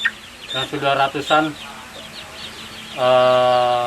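Free-range village chickens and chicks cluck and chirp nearby in short bursts, followed by a sustained, higher clucking call near the end.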